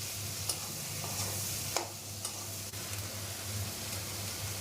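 Sliced onions with bay leaf fry in oil in a pan for a Bengali chicken kosha, giving a soft, steady sizzle broken by a few scraping stirs of a spoon, heard close and without talk.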